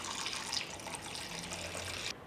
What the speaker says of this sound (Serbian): I u šerpu ću naliti toplu vodu do visine poklopca.